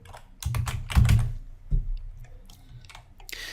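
Computer keyboard typing while data is entered into a land records system, with irregular bursts of keystrokes, denser in the first half and then scattered, close and moderately loud.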